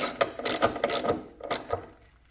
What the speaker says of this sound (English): You got a socket on that just to finish tightening it up.